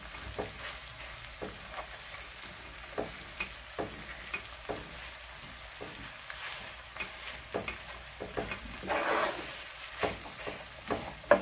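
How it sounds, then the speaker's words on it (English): Corned beef frying in an oiled pan as it is broken up with a spoon, for a St Vincent Caribbean dish: a soft steady sizzle with frequent light scraping and tapping stirs, close and fairly quiet. "So I'm going to break down my corned beef."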